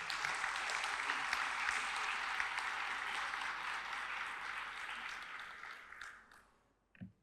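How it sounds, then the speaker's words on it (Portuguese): An audience at a municipal council special ceremony claps in sustained applause, dense and steady at first, then thinning out and fading to a few scattered claps at the end. "A todos uma salva de palmas"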